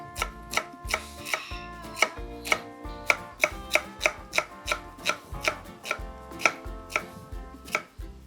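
A knife chops and crushes garlic on a cutting board with about twenty sharp, evenly spaced thuds, close and crisp, with no talk.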